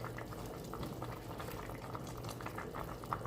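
Pork sinigang with okra bubbling at a steady boil in a pot, a close, continuous dense simmer of popping bubbles with no voices.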